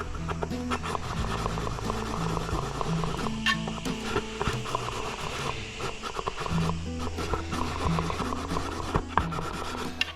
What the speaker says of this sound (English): this will take off the burrs or any high spots that the friction disc will have on the input shaft